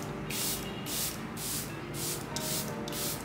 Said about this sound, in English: And now I'm gonna spray my face using the Charlotte Tilbury Flawless Setting Spray.